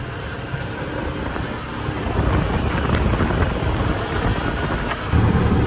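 A Polaris Ranger UTV runs at high speed over sloppy, partly dried ground, heard as a dense roar of wind buffeting and rumble that builds midway and stays loud to the end.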